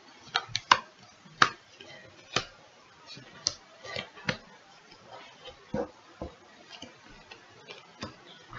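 Soft, irregular clicks and taps of tarot cards being handled and cut up close, a handful of sharper snaps among quieter rustling, with no voices.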